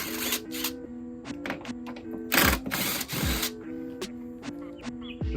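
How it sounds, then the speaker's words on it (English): A 10mm socket ratchets loose the top headlight bolts on a Hyundai Genesis Coupe, with rapid repeated clicking bursts and a few louder metallic rattles and clanks up close. "we can take out the headlight with our 10mm socket, and that's just 2 bolts here along the top"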